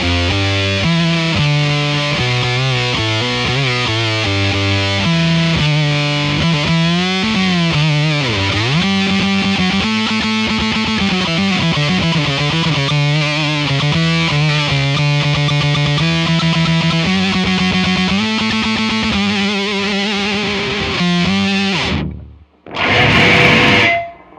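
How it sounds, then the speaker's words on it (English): A distorted electric guitar solo through a BOSS OC-2 octave pedal, with a thick, doubled octave tone, plays continuously and loudly, bending notes, then cuts out briefly before a short final burst. "the solo in that song uses this pedal, and it sounds kind of like this"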